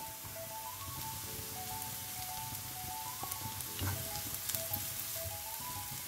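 Green chillies frying in a pan with chickpeas for Kerala-style kadala thoran, giving a soft, steady, crackling sizzle with a few light spatters and a tonal hum underneath, with no voices.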